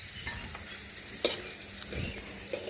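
Okra sizzling in oil after potatoes were fried in it, with a spatula scraping and stirring in a few short strokes over a soft, steady crackle, close and alone.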